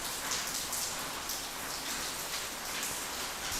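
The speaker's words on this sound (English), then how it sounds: "that's why you can hear the rain so well, as the microphone's actually closer to the open window than it is me." Rain pours steadily outside an open office window, a close, continuous hiss and patter of drops with no voices over it.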